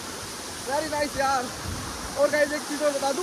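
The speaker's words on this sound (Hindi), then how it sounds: "देखो पीछे से भी वाटरफॉल आ रहा है" A rushing waterfall in Rishikesh pours as a steady broadband roar behind someone talking up close.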